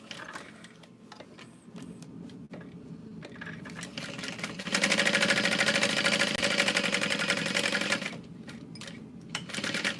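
A sewing machine stitches two parallel lines for a zippered pocket on a bag, a steady mechanical run from about 5 to 8 seconds framed by shorter clicky bursts and handling noise, close and fairly loud.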